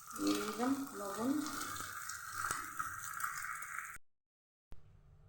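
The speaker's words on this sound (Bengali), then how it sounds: "আমার ডিম ভাজা হয়ে গেছে" Two duck eggs fry in hot oil in a pan, giving a loud, steady sizzle with a faint voice in the first second; the sizzle stops abruptly near the end, leaving brief silence before a short, quieter return.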